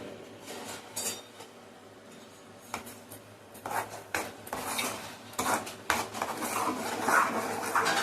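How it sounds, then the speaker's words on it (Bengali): A spice paste with sugar and turmeric is mixed in a bowl for a lentil dhoka curry, producing close, irregular scraping and clinking of a spoon against the dish that grows busier toward the end, with no talking. "এবারে এই পেস্টটাকে ভালো করে আমি মিশিয়ে নেব।"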